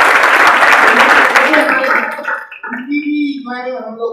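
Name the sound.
audience applauding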